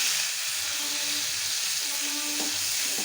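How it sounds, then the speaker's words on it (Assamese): Onions sizzle in hot oil left from frying fish, a steady close frying hiss with faint crackles and an occasional stir running through. "এতিয়া মই ভজা মাছখিনিৰ তেলতে ইয়াতে পিঁয়াজ দি দিছোঁ।"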